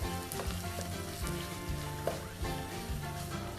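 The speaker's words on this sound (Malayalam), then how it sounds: "1/2 ടേബിൾ സ്പൂൺ ഗരം മസാലയും ഇട്ട് നമുക്ക് വീണ്ടും നന്നായിട്ടൊന്ന് മിക്സ് ചെയ്യാം" Ginger, garlic and spice powders, including chilli powder and garam masala, fry for a Kerala-style beef fry, a soft continuous sizzle with gentle stirring scrapes up close.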